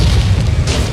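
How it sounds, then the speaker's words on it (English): A single cannon shot in a Sly Cooper 3 pirate ship battle, a loud low boom with a rumbling tail that fills the moment close and heavy. "Nice shot, Sly!"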